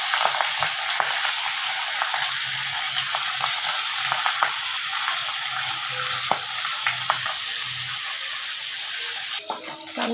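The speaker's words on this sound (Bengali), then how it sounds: "এবারে মাছ ছেড়ে দেবো।" Fish sizzles loudly in a hot wok, a continuous bright crackling hiss with scattered pops and spatters, close and steady throughout, with no talk.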